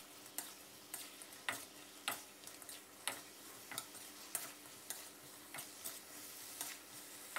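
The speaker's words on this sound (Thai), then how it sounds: "หอมแขกซอยครึ่งหัวแล้วก็เราผัดคลุกเคล้าให้เข้ากันนะครับ" Pork belly and sliced shallots are stir-fried in sauce in a pan, with a soft sizzle under steady, evenly spaced scrapes and taps from the spatula. The sound is quiet and close, and no one speaks.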